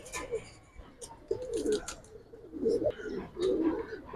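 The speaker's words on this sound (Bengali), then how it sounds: "এই রৌদ্রেও কবুতর ডাকে কি" Giribaz pigeons coo nearby in sunshine, with a series of soft, throaty rolling coos repeating at a close distance alongside light background chirps.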